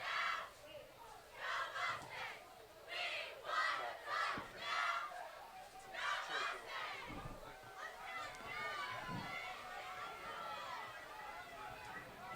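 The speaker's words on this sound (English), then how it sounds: "the limited Mainland crowd did not like that previous call" A small home crowd at a Mainland high school football game against Pleasantville reacts in bursts of shouting and jeering, loud waves rising and falling throughout, with scattered voices between.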